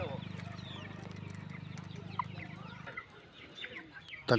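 Vanaraja chickens on a poultry farm cluck and call in short, scattered bursts over a steady low murmur, with a louder squawk near the end.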